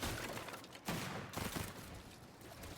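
Rapid, dense shotgun blasts in a video game, loud and continuous, with brief gaps between bursts of gunfire and faint game effects underneath.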